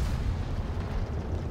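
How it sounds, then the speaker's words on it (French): A battle explosion in the tank combat game War Thunder rolls out as a low, sustained, broadband rumble at moderate volume, with no voices. "Ouah, il y a eu une belle explosion là."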